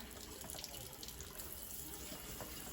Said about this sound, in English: So you just rinse them through this.